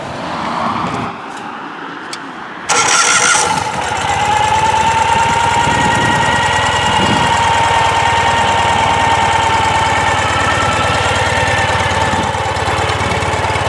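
A 2018 Ural gear-up sidecar motorcycle engine idles steadily and close by, a low rumble with a faint whine running without a break after a brief quieter moment at the start.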